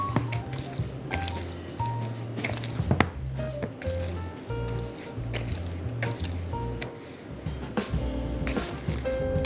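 Hands pinch and fold sticky sourdough dough mixed with salt, producing soft, wet squishing and slapping sounds in an irregular rhythm, close up and fairly quiet.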